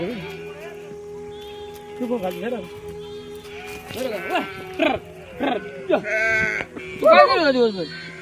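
Several goats bleat in turn outdoors in hot April sun in Maharashtra, some short and some drawn out, close by, mixed with people talking and a steady background hum.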